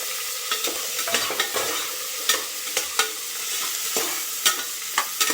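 Small onions sauté for biryani, a steady broadband sizzle of frying with repeated sharp scraping clicks as a spoon stirs them in the pan, close and fairly loud, no voices.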